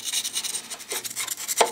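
Close scraping and rasping as caked dirt is scratched off a Bernard BM4 lawnmower engine with a tool, short repeated strokes ending in a sharper scrape.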